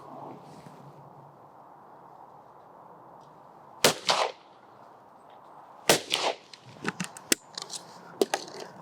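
A Blaser F3 Supersport shotgun fires at clay targets, giving sharp loud reports in separate bursts, some in quick pairs. Each report is followed by a short echo over a quiet outdoor background.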